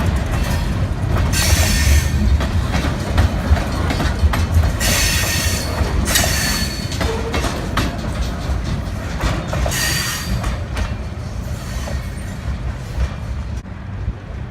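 Great Lakes Central Railroad locomotive 398 passing close by on its run into Traverse City, Michigan, a loud steady rumble of wheels and cars with repeated clacking and bursts of squeal throughout.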